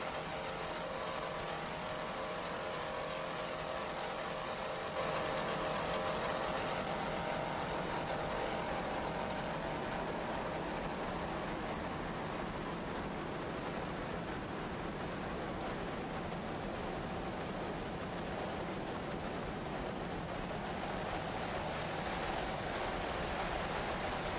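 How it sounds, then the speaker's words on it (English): Racing powerboat engines from a 1993 offshore race on Lake Erie, including a 28-foot Magnum, roar in a continuous loud drone with a steady high-pitched whine, unbroken for the whole stretch with no talking. "Boat seems to have a good attitude, and those engines sound excellent."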